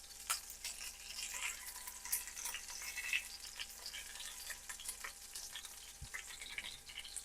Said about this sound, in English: let those get a nice little sear on them